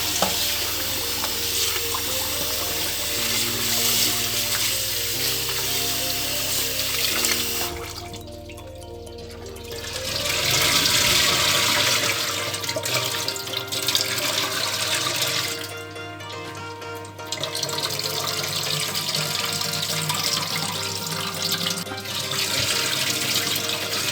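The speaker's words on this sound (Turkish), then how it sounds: "Su berraklaşana kadar iyice yıkayacağım buğdayımı." Running water streams from a tap while wheat is swished and rubbed by hand, with a brief pause midway before the flow resumes.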